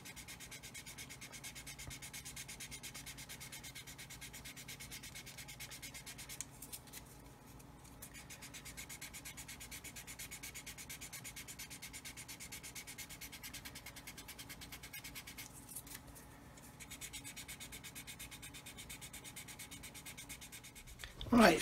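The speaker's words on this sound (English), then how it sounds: "it's all sanded nice and flat as if it was never there" Plastic parts of a 1/35 Meng 9K37M1 Buk scale model kit are sanded flat with continuous close, rhythmic rubbing and scratching strokes that pause briefly a couple of times.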